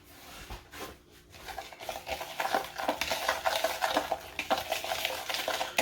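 Ingredients for a rib rub or sauce are mixed in a bowl, with a utensil scraping and clinking in quick, uneven strokes that grow busier and louder after a quieter start.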